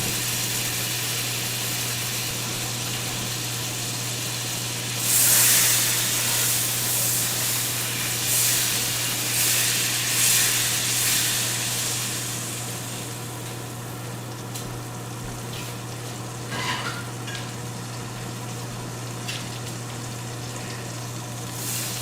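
A whole stick of salted butter sizzles and hisses steadily in a hot pan alongside lamb chops, a dense frying crackle that swells louder for a few seconds and then settles back to a softer, even sizzle.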